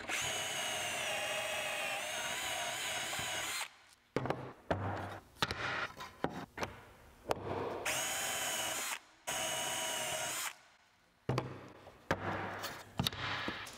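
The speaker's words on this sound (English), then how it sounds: "Now that I've got all my Kreg jig holes drilled" A power drill bores pocket holes through a Kreg jig into wooden window casing boards. A long, loud whine comes first, then a series of short bursts separated by clunks and pauses, close up with no speech.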